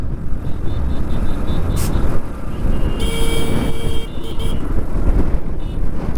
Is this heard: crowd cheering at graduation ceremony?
no